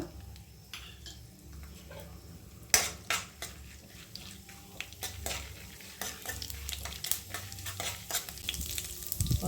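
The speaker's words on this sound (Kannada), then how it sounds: "ಇವಾಗ ಬನ್ನಿ ಒಗ್ಗರಣೆ ಮಾಡ್ಕೊಳ್ಳೋಣ" Oil sizzles steadily in a pan as tempering with onion is made for pineapple gojju, while a spoon clinks and stirs against metal, with sharp scraping clatters scattered throughout.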